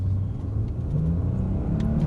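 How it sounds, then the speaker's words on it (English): A Genesis G80 V6 engine hums and rises steadily in pitch as it accelerates, a continuous low drone close by with no voices. "V6 can sing, and that's a very pleasant sound."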